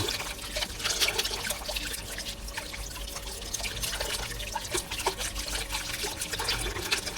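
Running water splashes and trickles steadily over the lint filter of an LG washing machine as it is rinsed, a continuous close hiss with small drips and spatters throughout.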